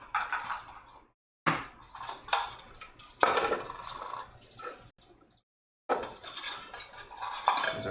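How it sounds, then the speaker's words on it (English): Chilies being chopped into chunks on a board in a home kitchen, a run of close knife taps and clatter with brief pauses between bursts, no talking. "I probably should cut them up, at least chunk them up, just to make the blender's life easier"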